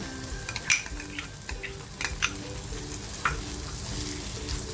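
Steady crackling sizzle of val beans frying in hot garlic-spiced oil, with occasional scraping stirs and light clinks; no voices.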